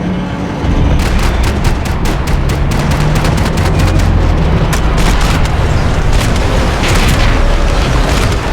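Gunfire in the shooter game Max Payne 3 rings out as a loud, dense barrage of rapid shots and booming blasts over continuous rumble, keeping up without pause for several seconds.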